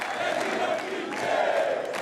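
Football fans crowding São Januário stadium for Roberto Dinamite's farewell, a dense roar of chanting voices, loud and sustained.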